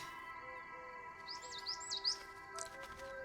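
A tit bird in a video game chirps a quick series of bright, rising twittering notes, fairly faint and alone over a steady hum of game music tones, with a short burst of extra chirps near the end.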